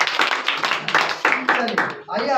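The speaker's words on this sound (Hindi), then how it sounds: "इनके लिए शुरू से जोरदार ताली मारिए" Loud classroom applause from a group of students clapping together, a dense sustained burst of hand claps with short surges, mixed with some voices.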